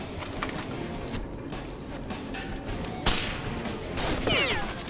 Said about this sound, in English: he sniped me again